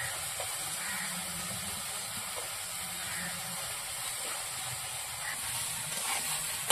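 Mango pieces fry with salt and turmeric in a hot pan, giving a steady, close sizzling hiss that runs unbroken throughout with no talking.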